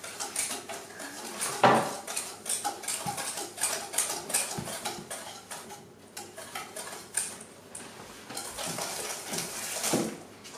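Cookie dough is stirred in a bowl with a utensil, giving steady close scraping, clinking and tapping in an uneven rhythm that goes on throughout with no talk.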